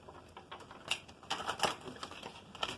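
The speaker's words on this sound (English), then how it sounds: "I'm going to shuffle on screen." Tarot cards being shuffled close by, a quick run of soft riffling clicks and flutters that rise and fall irregularly, with no voices.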